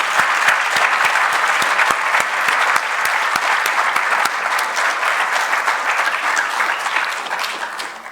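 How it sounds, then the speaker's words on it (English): Sustained applause from a large audience at an Indigenous law conference plenary, a dense steady patter of many hands that holds throughout and thins slightly at the end. "So another round of applause for Naomi"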